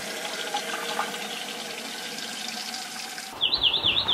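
Water runs from an RV tap while the pump stays off and the lines are pressurized from the accumulator, giving a steady, moderately loud hiss; near the end a sharp, high chirping warble cuts in over it.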